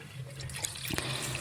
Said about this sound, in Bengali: এখন আরেকবার আমি জল দিয়ে দেখুন ফেলে পরিষ্কার করে নিলাম চালটা